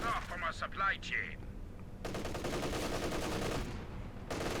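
Long sustained bursts of MG34 machine gun fire from Company of Heroes 2 rattle steadily after a brief voice, running nearly continuously with a short break before resuming.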